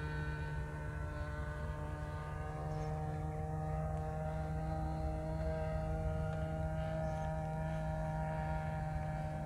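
A radio-controlled model airplane's engine drones at the flying field, a steady buzzing hum held at a fairly even pitch that sounds moderately distant.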